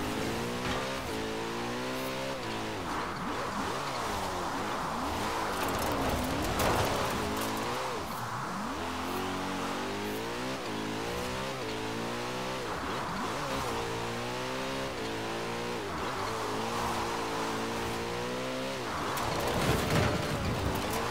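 Car in the video game Forza Horizon 4 drives with a super slidey, out-of-control handling, engine revving and rising and falling in pitch over continuous tire and road noise, loud and steady throughout with no talk.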